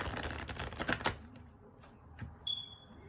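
Tarot cards shuffled by hand in a burst of riffling, crackling card noise lasting about a second, then quiet with faint handling sounds and a brief high electronic tone near the end.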